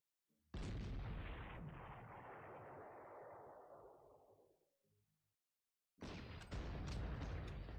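Artillery fire in the strategy game Panzer Corps: a single loud, close blast that decays over about four seconds, then a second heavy boom begins after a short silence.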